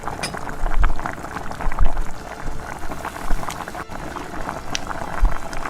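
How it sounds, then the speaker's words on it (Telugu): Tamarind juice hitting hot oil in a kadai, a loud, close bubbling sizzle with swelling surges and liquid splashes as it fries. "ఒక కడాయిలోకి ఆయిల్ వేసుకొని, ఆయిల్ వేడైన తర్వాత చింతపండు రసాన్ని వేసుకొని ఫ్రై చేసుకోవాలి."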